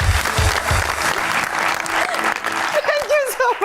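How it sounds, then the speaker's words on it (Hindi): Studio audience applause on a TV talk show, a full burst of clapping that thins out as a voice takes over near the end. "आज मुझे एक दफा फिर आपसे रिक्वेस्ट करनी होगी अनुषे के लिए तालियां।"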